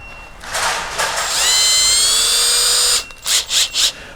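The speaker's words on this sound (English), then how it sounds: "Whenever you have your drill and you're up against metal" A power drill with a roughly 1/8-inch bit whines as it bites into metal, a rising high-pitched screech held for a couple of seconds, then a few short, quick bursts.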